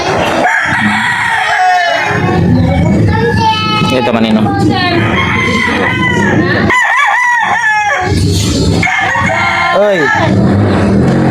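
Roosters crowing loudly and repeatedly up close, with overlapping cock-a-doodle-doo calls and clucking throughout, while people talk briefly in between.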